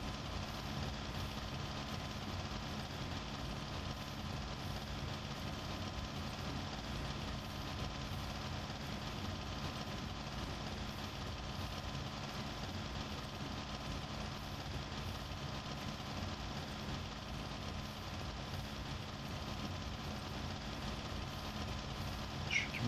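Steady, continuous drone of a T-25 tractor engine in the Farming Simulator 19 game while baling hay, a low rumbling idle-like hum that holds evenly throughout with no speech.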